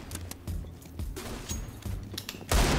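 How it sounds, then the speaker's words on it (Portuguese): Gunfire from a CS:GO match rattles in repeated short bursts at moderate distance, ending with a louder close volley. "Olha o jeito que esse aqui tá atirando"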